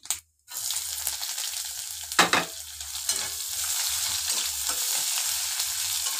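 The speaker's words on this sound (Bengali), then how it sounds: "একটু ভেজে নেবো পেঁয়াজটাকে।" Chopped onions are tipped into hot oil with panch phoron and cumin and fry in a steady, loud sizzle. A scrape of stirring breaks in partway through.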